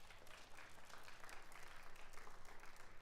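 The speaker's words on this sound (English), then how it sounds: "Let's give a round of applause for those parents." Audience applause for parents at a high school and junior high percussion concert, a steady wash of clapping from a crowd held at an even level for the whole stretch, with a low hum beneath.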